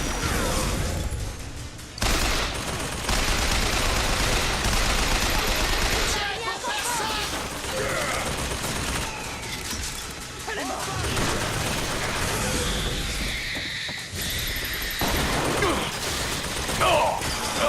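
Turret gunfire in the video game BioShock Infinite, dense rapid bursts with crashes and mechanical clatter running almost continuously, loud and close, with brief gaps between volleys.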